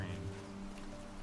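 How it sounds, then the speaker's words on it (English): Steady rain falls in a video game, a soft even hiss of drops on surfaces that continues unbroken, faint and low in level throughout. "Watch the raindrops. It's really stretchy rain."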